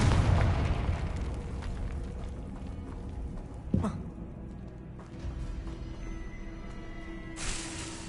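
A Confringo blasting spell erupts as a loud, close explosion in the Hogwarts Legacy game, one sharp boom over dense game sound and a voice, with further bursts of in-game noise afterward.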